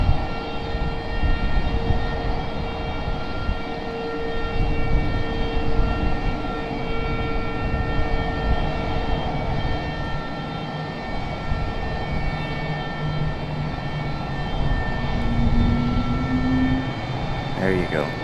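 Engines of an Embraer E175 jet idle at an airport before pushback, a steady whining hum with sustained tonal lines and a rising pitch sweep near the end, while a person talks over it.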